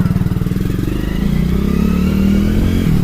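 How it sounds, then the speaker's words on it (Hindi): A motorcycle engine idles with a rapid low putter, then revs up into a steady louder drone as riders pull away, close and dominant throughout. "और अब बाइक पे ही हमें जाना है।"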